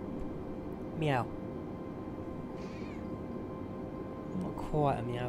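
A cat meows twice, a short rising call followed later by a longer one, close and clear against a quiet background hum, with a person speaking softly in between.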